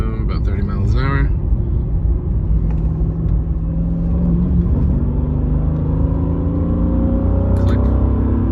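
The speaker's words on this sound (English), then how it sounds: "It's a second gear pull, 2000 RPM, about 30 miles an hour." A Mercedes E55 AMG pulls hard in second gear from about 2000 RPM near 30 mph, its engine rumbling steadily with climbing tone, close and loud, while people talk over it.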